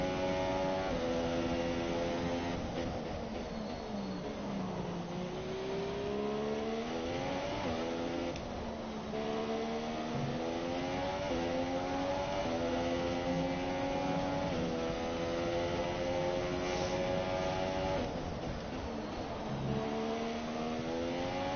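Formula 1 race car engines in a racing video game at the Australian circuit, a continuous high-pitched whine that rises and falls through repeated gear shifts over about twenty seconds, with no talk.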